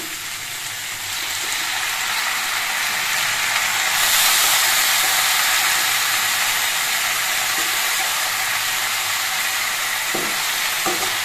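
Boiled Malabar spinach is added to vegetables in hot oil, setting off a loud, dense, continuous sizzle that swells after a few seconds and holds steady, with a few faint knocks near the end.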